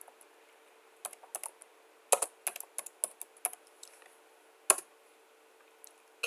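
A computer keyboard clicks in short, irregular bursts of keystrokes as a command is typed on a server terminal, near and fairly quiet, with gaps between groups of keys.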